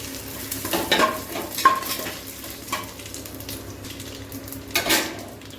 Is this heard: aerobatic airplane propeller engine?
no